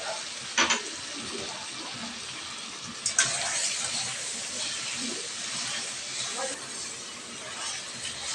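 Mutton karahi frying with ground cumin, coriander and green chilies, giving a continuous close sizzle and hiss with a couple of brief stirring knocks.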